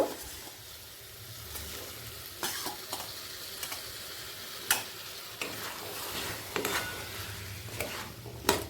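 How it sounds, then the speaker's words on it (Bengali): Drained kabuli chickpeas and minced chicken sizzle steadily in a kadai as a spatula scrapes and stirs them, with sharp metallic scrapes recurring every second or so over a continuous frying hiss. "এবার জল থেকে ছেঁকে কাবলি ছোলাগুলোকে চিকেনের সাথে একটু ভালো করে কষিয়ে নেব"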